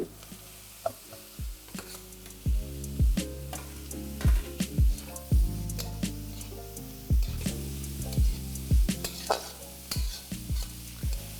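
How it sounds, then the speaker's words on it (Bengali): Remaining vegetables stir-fried in a pan for Bengali-style chicken soup, with repeated stirring scrapes and clatters over a steady sizzle, close and moderately loud, no talking. "এবার এখানে আমি বাকি ভেজিটেবলগুলো অ্যাড করে দিচ্ছি।"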